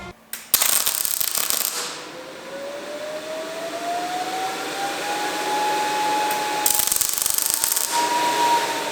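Welding through a bent extension welding attachment, a harsh broadband sputtering buzz in bursts with a rising whine and hum between, close and loud, no talk.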